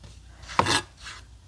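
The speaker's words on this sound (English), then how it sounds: "I'm just chopping with this part of my knife." Chef's knife chopping herbs for gremolata on a cutting board: a single firm chop near the middle followed by a softer scraping stroke, close and quiet with no voices.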